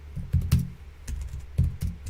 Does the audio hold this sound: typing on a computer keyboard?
yes